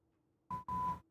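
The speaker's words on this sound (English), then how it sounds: "There's this fire alarm testing going on in my building today." Two electronic fire alarm beeps sound during a test in an apartment building, a short tone followed by a longer steady one, fairly loud over a quiet room.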